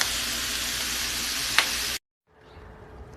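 Bacon frying in a pan gives a steady, bright sizzle with a faint pop, cutting off abruptly and then returning more quietly as a softer hiss.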